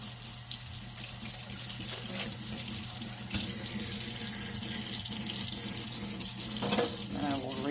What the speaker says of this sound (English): I'm going to wash my hands with some hot water